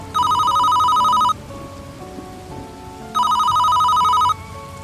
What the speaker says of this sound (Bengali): ঠিক সেই সময় নামদেব বিদ্র নামে একটি ব্যক্তির ফোন আসে।